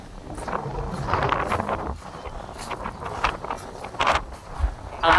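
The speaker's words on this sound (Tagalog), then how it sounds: "Ang hangin." Gusty wind buffets the microphone outdoors on a trip through Nueva Ecija, a steady rushing roar with louder bursts near the end and no talk.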